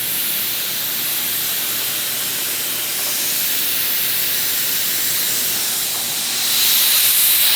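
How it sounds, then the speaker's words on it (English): A continuous loud, hissing spray of hydro dipping activator runs steadily throughout and grows slightly stronger toward the end. "get ready for spraying the activator"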